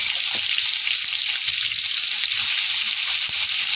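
Potatoes go into hot oil tempered with onion stalks and slit green chilies for a chorchori, producing a loud, continuous close sizzle throughout.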